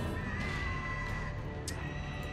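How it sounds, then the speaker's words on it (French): Pig noises echo from somewhere behind in a Darkest Dungeon dungeon: drawn-out, shrill squeals and whinny-like cries rising over a constant low ambient drone, fairly faint and distant. "on entend des bruits de cochon derrière, là."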